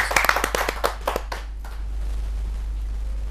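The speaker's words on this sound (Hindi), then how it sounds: "एक जोरदार ताली।" A short burst of hand clapping for a poet at a kavi sammelan, sharp claps bunched in the first second and a half, then thinning out into a steady low hum.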